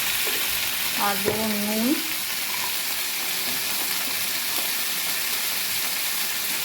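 Vegetables for khichuri fry in a pan with a loud, steady sizzle that runs without a break, and someone speaks briefly over it near the start.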